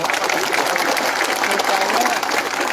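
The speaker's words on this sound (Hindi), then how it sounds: "सब इनको भी एक बड़ा ताली दीजिए।" A crowd at a community gathering in Tripura applauds, a dense, even wash of clapping holding steady and loud for nearly three seconds with no pause.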